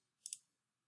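A couple of quick, faint clicks of keys being pressed on a graphing calculator, isolated in silence.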